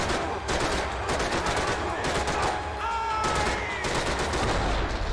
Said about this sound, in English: This gun has a lot of recoil.